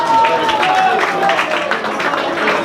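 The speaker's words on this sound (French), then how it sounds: "c'est eux aussi qu'il faut applaudir" Loud, continuous applause from a crowd at the 13th Opio Valbonne Classic golf event, with a brief whistle-like tone near the start and a few voices under the clapping.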